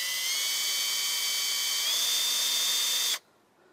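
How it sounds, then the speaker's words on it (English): A power drill boring a 1/8-inch bleed hole in the pipe of a Bison deep well hand water pump, a steady high-pitched whine for about three seconds that stops abruptly. "So we're gonna drill the 1/8-inch hole."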